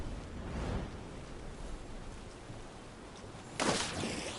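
Rain in the video game Dragon Age: The Veilguard, a soft continuous hiss of falling rain with a brief louder rustling burst near the end, no talking.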